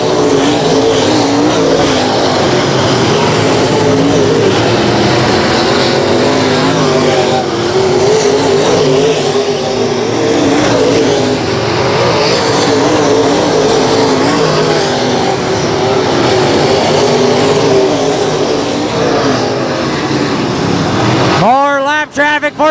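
Race cars lap Electric City Speedway in heavy lap traffic, engines roaring loud and continuous with overlapping passes and rising revs. A track announcer talks over the din, and a sharp sweeping pass closes it out.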